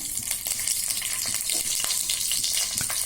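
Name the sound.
slit green chilli sizzling in oil for biryani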